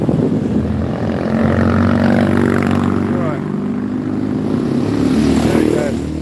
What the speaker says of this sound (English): Sorry about the noise of the bikes with no mufflers.